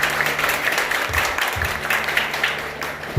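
A church congregation claps together in a short burst of moderately loud, scattered applause.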